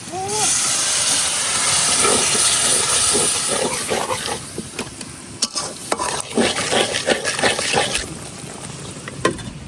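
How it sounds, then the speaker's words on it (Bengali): Cumin paste, turmeric, chili powder, coriander and salt stir-fried with a splash of water in a pan, giving a loud steam hiss that gradually gives way to choppier sizzling and repeated scraping of a spatula. "এখন অল্প একটু পানি দিয়ে এই মশলাটা ভালো করে কষাই নিয়ে"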